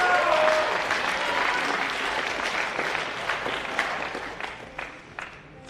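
Audience applause for a junior male champion at a secondary school top rope climbing final, a dense crowd clapping that stays strong then slowly thins, with a voice faintly over it near the start.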